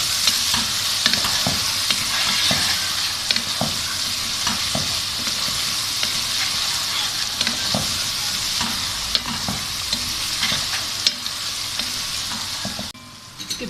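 Chicken sizzles steadily as it fries in turmeric, black pepper and garam masala, with frequent close stirring clicks and scrapes of a spoon in the pan throughout; no voices.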